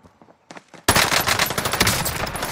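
After a brief quiet stretch with faint speech, a video game erupts in loud, rapid machine-gun fire, a dense rattling burst that continues close and unbroken to the end.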